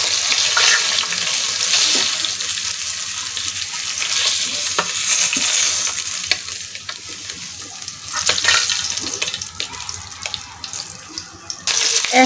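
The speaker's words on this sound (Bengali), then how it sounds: "একইভাবে বাকি সব মাছ আমি ভেজে নেব" Pangasius fish pieces frying in oil in a pan, giving a steady, loud, close sizzle that carries on throughout with small crackles and pops.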